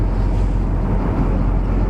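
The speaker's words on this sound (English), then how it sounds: "Doesn't sound like we're out of the wind." Wind blows hard at an open outdoor campsite in southwest Idaho, a loud, steady low rumble and buffeting against the microphone with no other sounds.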